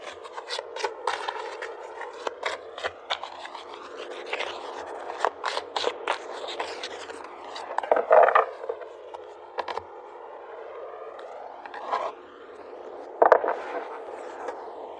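Paper advice cards being shuffled and drawn, giving a run of crisp riffling and sliding rubs with a few sharper snaps, close and moderately quiet, with no voices.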